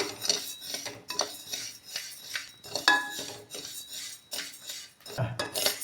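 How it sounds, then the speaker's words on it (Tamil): Rice dry-roasted in a pan until brownish, a spoon or spatula scraping and clinking against the metal in irregular strokes, fairly close and moderately loud with no speech. "நல்லா ப்ரௌனிஷ் கலரில் வர வரைக்கும் நல்லா வறுத்துக்கோங்க அரிசியை"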